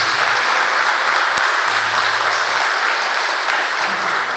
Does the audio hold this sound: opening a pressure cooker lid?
no